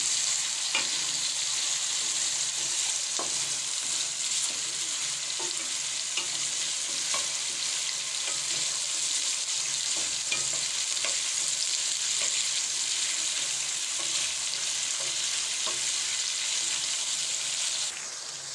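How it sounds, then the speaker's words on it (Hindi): Potatoes fry in hot oil in a karahi, dhaba style, with a steady, soft sizzle throughout and occasional light scrapes and clinks of a spoon stirring them. "आलूओं में साथ साथ चम्मच चलाते जाएंगे। ये क्रिस्पी से तैयार हो जाए।"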